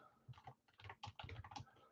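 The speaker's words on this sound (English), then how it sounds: "Hold on one second, typing this." Fast typing on a computer keyboard, a close, quiet run of irregular key clicks and taps alone, without talk.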